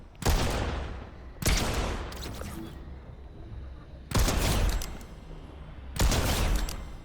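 Bursts of automatic gunfire in the video game Fortnite come in four loud, dense volleys of rapid shots, each lasting about a second, with quieter game noise between them.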